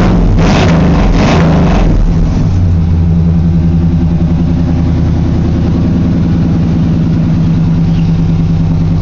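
A 1995 Chevy Silverado 1500 engine cold-starts on a December morning, cranking briefly before settling into a loud, steady, close idle with a low rhythmic pulse that runs on alone.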